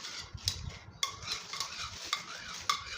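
Lemon-flavoured piping gel stirred in a small container, giving quiet wet scraping and clicking strokes at an irregular pace, close and faint, with no voices.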